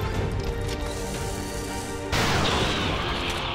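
A gunshot in the turn-based strategy game XCOM 2, a loud crack at about two seconds over a dense, steady game backdrop, with no talk over it.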